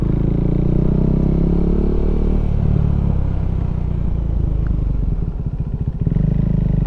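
A KTM 390 Duke single-cylinder engine running steadily around 3000 RPM while riding, a loud continuous drone with wind rush and a rhythmic thrum, briefly dipping before picking back up.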